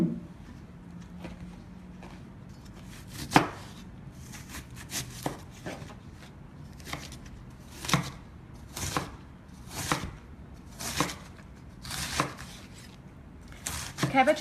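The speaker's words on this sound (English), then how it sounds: "you will just continue chopping" Knife chopping cabbage for sauerkraut on a board, a steady series of crisp, close chops repeating about once a second, fairly quiet with no talk.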